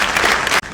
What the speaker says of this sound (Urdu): آپ سب کی تالیوں میں توقیر چغتائی صاحب.